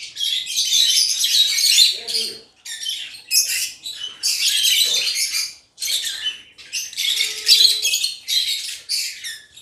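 Caged African lovebirds, including albino and green fischer types, chirp in dense, high, shrill bursts that continue through most of the stretch with short pauses, close and fairly loud.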